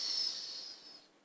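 A single drawn-out breathy hiss with a high whistling tone, like an exaggerated imitated snore exhale, fading out after about a second.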